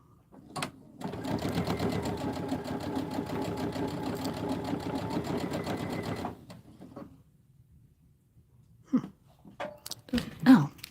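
A sewing machine running steadily for about six seconds, top stitching with a longer stitch length, a close, even whirring hum that stops abruptly, followed by faint handling clicks.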